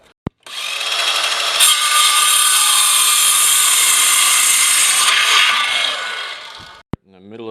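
A power tool, likely a router or rotary cutter, carves a quarter-inch slot into curved drywall for a duct transition piece. It is a loud, steady whine held for about six seconds, starting and stopping abruptly, with short clicks at either end.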